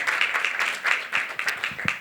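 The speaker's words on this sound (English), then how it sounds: "I think that deserves a round of applause." Audience applause at a youth banking panel discussion, a steady patter of many hands clapping in a hall, moderately loud and continuous for a couple of seconds with no talk over it.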